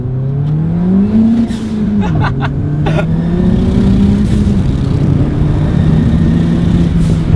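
Upgraded turbocharged Ford Fiesta ST accelerating hard, a steady engine drone rising and holding in pitch from inside the cabin, continuous and loud with no one talking.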